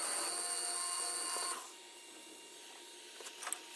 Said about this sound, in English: Back up on the lathe